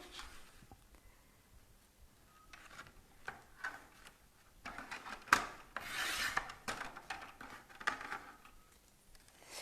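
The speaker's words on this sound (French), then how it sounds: "Là, je découpe juste mes petits tags." Small paper tags being cut by hand at a scrapbook and flipbook craft session, giving scattered rasping, rubbing snips and paper rustles at close range with brief louder bursts, no voices.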